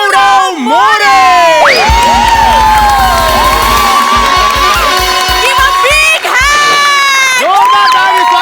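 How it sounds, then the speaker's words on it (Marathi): A studio audience at a Marathi comedy show cheers, whoops and claps loudly to welcome a star guest, a sustained roar of crowd noise with rhythmic clapping rising and falling. "जोरदार टाळी स्वागत करा या नटाचं."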